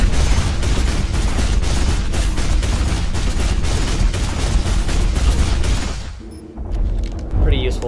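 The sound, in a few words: mech weapon firing continuously in Hawken video game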